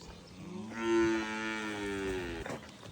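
A dairy cow on a farm gives one long, clear moo, close and loud, with little else around it.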